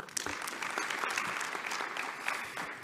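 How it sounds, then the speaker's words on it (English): A room of reporters and officials at a media briefing by the president of the Confederation of African Football applauds, a steady wash of many hands clapping at moderate volume for a few seconds, with no speech over it. "let's clap hands for everybody"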